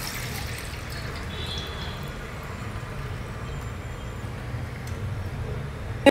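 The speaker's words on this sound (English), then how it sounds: "Drain out this water." Soaking water drains off a cup of soaked rice with a continuous close trickling pour that ends in a small knock.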